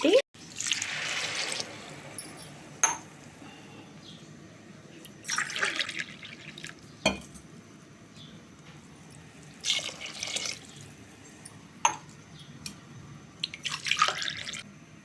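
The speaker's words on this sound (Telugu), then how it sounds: "ఇది 4 గ్లాసులు 4 గ్లాసులు పోసాను వాటర్." Water is poured from a glass over rice for veg biryani in several separate bursts of splashing, with quiet gaps between the pours and faint background noise.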